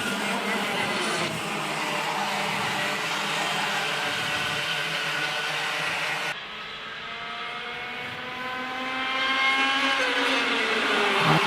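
Race cars at Hooton Park circuit scream past in a close pack, with several high engine notes overlapping and rising in pitch through gear changes, loud and continuous with a brief dip midway.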